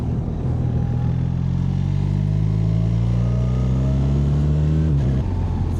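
A BMW R1300 GSA motorcycle rides along a little track around a lake, its engine droning steadily and close with rising and falling revs, briefly dipping near the end.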